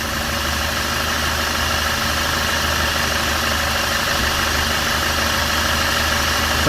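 A Volkswagen Passat engine idles steadily at full operating temperature, a constant low hum with a faint mechanical rumble, close by and unchanging, with no voices.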